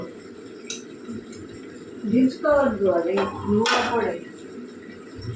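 A pot of tomato curry taken off a stove, with a cluster of metallic clanks and scrapes of pot against burner grate, close and fairly loud over a faint room background.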